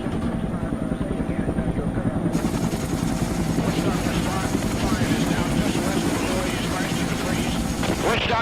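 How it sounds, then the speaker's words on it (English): Helicopters head toward a landing zone during the 1971 Lam Son 719 operation in Vietnam, their rotor drone rumbling steadily and loudly throughout, with dense noisy texture and possible radio-like voice sounds mixed in. "Over the radios, we can hear the choppers ahead of us."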